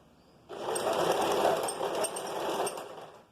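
Sewing machine stitching a vest starts up after a short quiet moment and runs steadily and close by in a fast, even mechanical whir for the rest of the clip.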